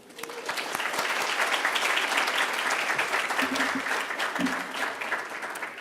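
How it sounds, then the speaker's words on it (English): Sustained applause from a large crowd fills the room, steady and dense throughout with a few voices faintly mixed in. "Let's give our reception entertainer, Ali Patterson, atmosphere a round of applause."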